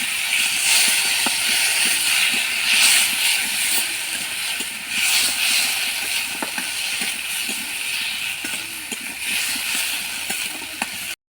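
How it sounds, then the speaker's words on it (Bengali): Spice masala sizzles and hisses in a pan after a splash of water, a steady bright crackle with scattered small pops, close and continuous with no talk. "একটু জল দিয়ে দেবো, জল দিয়ে মশলাটা কষে নেবো।"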